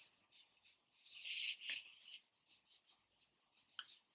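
Graphite pencil lightly sketching a bird's feathers on paper, a soft, quiet scratching in short strokes, with one longer rasping stroke near the start and faint, steady rubbing throughout.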